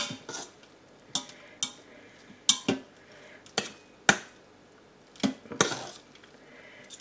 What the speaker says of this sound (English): Now you always want to fluff rice with a fork